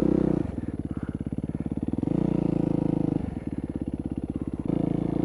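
Motorcycle engine running steadily while riding across open land, a loud close pulsing drone that rises and falls with throttle changes, no talk over it.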